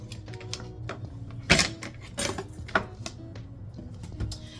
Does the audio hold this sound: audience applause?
no